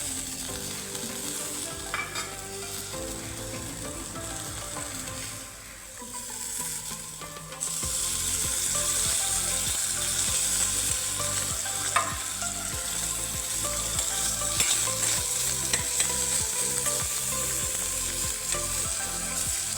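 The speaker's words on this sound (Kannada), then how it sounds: "ಇದು ಅಷ್ಟೇ ಕೆಂಪಕ್ಕಾಗುವಷ್ಟು ತನಕ ಫ್ರೈ ಮಾಡ್ಕೊಳ್ಬೇಕು." Potatoes and cauliflower fry in oil in a pan for gobi aloo palya, a dense steady sizzle broken by repeated scraping stir strokes that grow louder and busier partway through.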